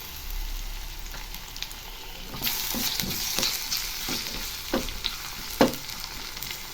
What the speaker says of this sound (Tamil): இப்போ நேரம் ஃப்ரை ஆகட்டும்